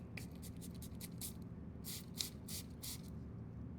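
Repeated short hissy bursts of aerosol tire dressing sprayed onto a tire, several quick pulses then a few longer ones, over a steady low background hum.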